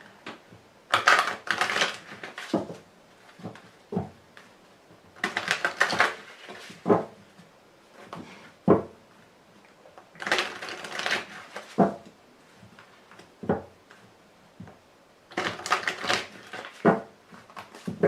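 Tarot deck being shuffled and covered, in four bursts of crisp riffling card clatter separated by short pauses, close and fairly loud, with no voices.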